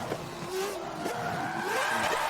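Car drifting with a handbrake skid in Forza Motorsport 7, a steady engine drone with a rising, gliding tire squeal running through the whole stretch, loud and close.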